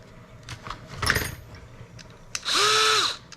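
A brief rattle is followed by a power drill with a 1/4 inch bit spinning up and boring briefly into scrap wood with a rising, steady whine, close and clear.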